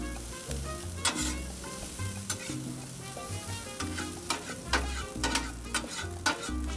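Ingredients sizzle and fry on a Blackstone 22-inch griddle at medium to medium-high heat, with a spatula clattering and scraping in an irregular rhythm as the food is spread out and stirred. The sound is close and steady, and no one speaks.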